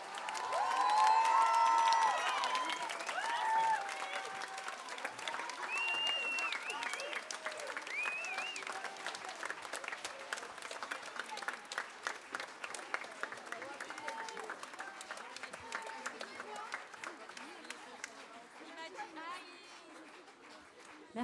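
A concert audience at a charity show applauds loudly at first, with cheers and chatter mixed into the clapping, then the clapping slowly thins and fades over about twenty seconds.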